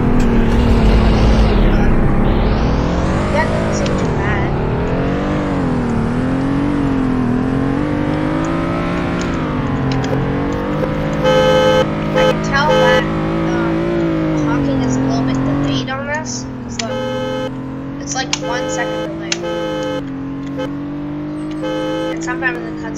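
A car driving in the Roblox video game, with a continuous engine drone that rises and falls as it accelerates, together with clicking and tapping sounds, and a person talking over it.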